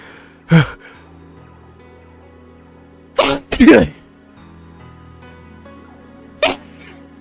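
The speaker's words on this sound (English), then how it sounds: "I think I'm gonna sneeze again" A person sneezes in three separate bursts: one early, a doubled one in the middle, and a lighter one near the end, each sharp and close, with quiet stretches between.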